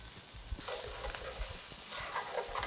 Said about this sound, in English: And now we're going to saute our aromatics,